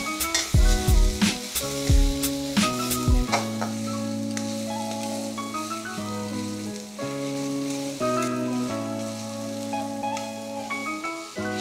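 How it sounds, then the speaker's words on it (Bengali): Shidol dried fish and shrimp fry together in a pan, crackling and sizzling steadily up close with a few stirring scrapes, while music plays over it. "শীতলটা আমার মোটামুটি ভাজা হয়ে গেছে। এই পর্যায়ে আমি চিংড়ি মাছটি দিয়ে দিতেছি।"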